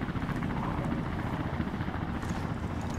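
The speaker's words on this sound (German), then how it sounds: "Hinten kommt der Hubschrauber." Helicopter in the video game Warface, in a Mojave Desert setting: a steady, heavy rotor thrum with rapid blade chop, loud and continuous throughout with no talk.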